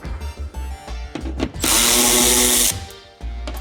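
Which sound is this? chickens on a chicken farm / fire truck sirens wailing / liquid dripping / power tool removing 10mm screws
power tool removing 10mm screws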